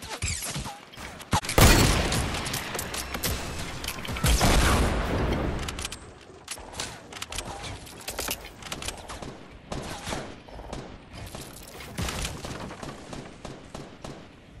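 Dense gunfire in the video game Fortnite, a sustained loud fusillade of overlapping shots and booms that peaks early then continues as rapid scattered bursts, with no talking.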